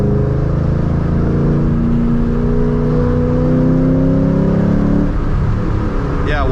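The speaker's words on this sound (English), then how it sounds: "It's only misfiring at low RPM now." A Ford Mustang engine running at low RPM with a misfire, a steady loud mid-range drone with shifting tonal whine that drops away near the end, where a brief rising squeal appears.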